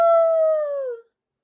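A human voice imitates a dog howling in a children's story about a dog stuck beside a bog: one loud, close, sustained "woo" that slowly falls in pitch and cuts off after about a second.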